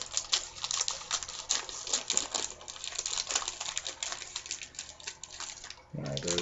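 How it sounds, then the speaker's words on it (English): Scissors snip through gingerbread house packaging in a rapid run of close, crisp cuts and crinkles, followed by a brief low thud. "use the scissors and cut this open, rather than try and pull it open"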